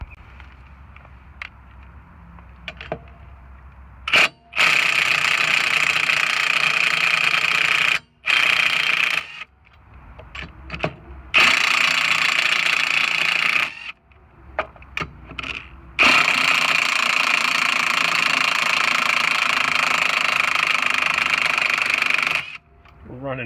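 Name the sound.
power tool removing lug nuts from Honda Civic wheel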